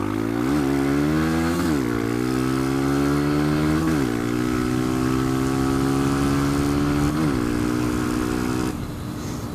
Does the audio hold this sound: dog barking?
no